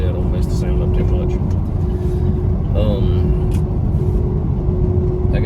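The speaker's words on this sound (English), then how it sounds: "I have no air in my truck, so I'm going to crack my window" Steady road rumble and rushing wind inside a truck driving with a window cracked open, loud and continuous throughout, with a constant engine drone and a person talking over it.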